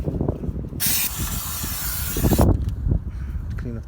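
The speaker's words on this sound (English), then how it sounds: "I'm just going to spray some brake cleaner." A loud, steady hiss of brake cleaner spraying for about two seconds during a Vauxhall Corsa 1.4 service, with clinks and handling noises before and after.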